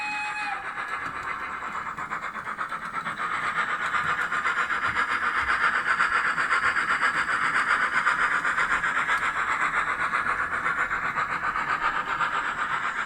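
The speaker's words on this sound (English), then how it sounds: "DCC sound file for the LB&SCR E1." Steady sound of an LB&SCR E1 tank locomotive from a DCC model railway sound file, a continuous chuffing running sound with some air-brake character, with one brief high squeal at the start.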